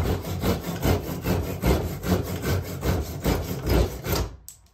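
A handsaw cuts through the top of a wooden wedge in a spike tomahawk head, producing loud, close, rhythmic back-and-forth rasping strokes that stop abruptly at the end.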